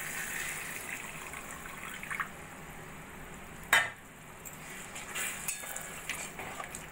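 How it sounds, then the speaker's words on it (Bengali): A little water goes into a pan of pointed gourd cooking with spices. It gives a soft steady hiss and gush under a low sizzle, with one sharp clink midway and no voices. "এবার দিয়ে দেবো আমি অল্প করে জল।"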